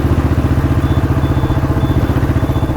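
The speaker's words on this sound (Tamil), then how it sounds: "நம்ம இப்போ நல்லா ஸ்பீடாகவும் போய் பார்ப்போம் வெஹிக்கிள் வந்து எப்படி சவுண்ட் கேட்குது" A restored 1976 Royal Enfield motorcycle engine thumps loudly in a fast, even pulsing beat while the bike is ridden at speed, close up and continuous throughout.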